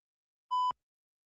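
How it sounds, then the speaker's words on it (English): A single short electronic smoke-alarm chirp, a bright tone with harmonics ending in a sharp click, heard alone in silence. "I think that was the fire alarm chirp."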